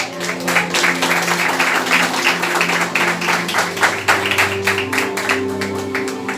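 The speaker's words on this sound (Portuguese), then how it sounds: "Aplauda Jesus." Church congregation clapping along during a sermon, a steady dense patter of many hands that runs the whole time over sustained musical tones, with a voice faintly present underneath.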